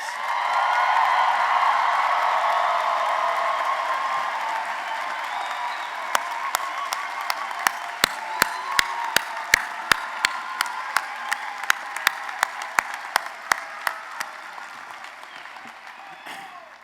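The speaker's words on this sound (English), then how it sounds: "give them another big round of applause" A large crowd at a college commencement ceremony applauds loudly and steadily, a dense wash of clapping with scattered sharp claps standing out as it slowly tapers off.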